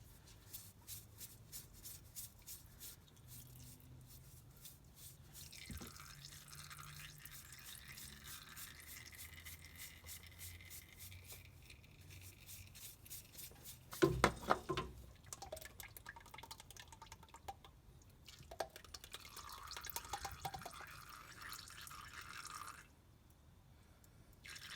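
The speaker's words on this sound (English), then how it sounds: "Just be careful when you're draining that oil, so it's going to come out." Engine oil trickles and drips from the sump of a Ford Falcon AU during a service, a steady quiet liquid patter with occasional louder clinks and shuffling handling noises.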